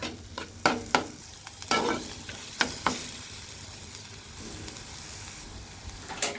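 Onions fry in a pan with spices, sizzling steadily while a spoon scrapes and stirs in scattered strokes at close range.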